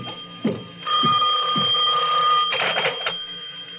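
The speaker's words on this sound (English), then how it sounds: "but my phone was ringing." An old telephone bell rings loudly in a sustained burst, with a few thumps before it and a brief rattle after.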